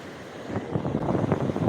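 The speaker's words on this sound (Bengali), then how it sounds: "ঢেউটা ছোট্ট একটা এলো" Sea waves wash and break along the beach at Digha, a steady rushing surge with wind buffeting the microphone.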